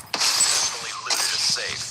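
Safe being cracked open in Call of Duty: a short series of mechanical clicks, creaks and metallic ratcheting, fairly close, layered over busy game ambience.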